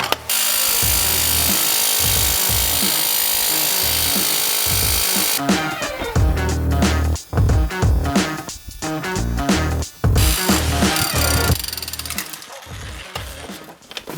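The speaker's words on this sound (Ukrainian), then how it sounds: "попробувати, чи перфоратор буде колоти дрова" A loud SDS Max rotary hammer drills and pounds steadily while splitting firewood, then wood cracks and splits with sharp bursts of hammering and creaking near the end.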